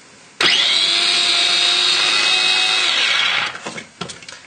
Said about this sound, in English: I'm being lazy using the small blender to get away with the washing